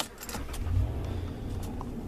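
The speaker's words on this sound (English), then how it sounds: "So let's crank the truck up." Truck engine cranking and catching, heard close with a low rumble that swells and settles into a steady idle, along with a light metallic jingle of keys and no talking.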